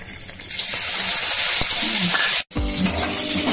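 Whole cumin seeds sizzle in hot oil in a wok, a steady crackling hiss with a brief dropout before the sizzling resumes.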